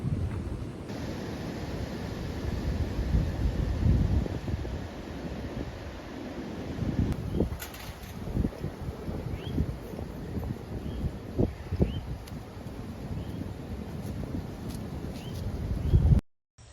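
Wind blowing across an open Midwest farm during tornado season, a steady low buffeting rumble with stronger gusts against the microphone, continuous for the whole stretch with no voices.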